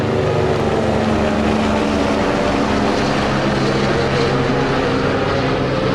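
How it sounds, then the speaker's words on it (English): A helicopter passes overhead in a sculpture park in Des Moines, Iowa, giving a steady, broadband rotor and engine roar that stays fairly loud throughout, with no talk. "Look at this helicopter going by."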